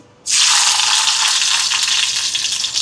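A sudden burst of loud, steady sizzling as onions hit hot oil, crackling continuously from start to finish, while cooking peanut chutney.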